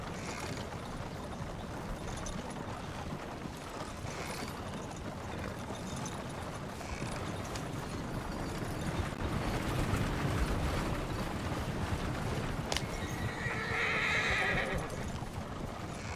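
Horses in the Red Dead Redemption game neigh and whinny while hooves clip-clop steadily over a dense, continuous background of game ambience, growing a little louder midway.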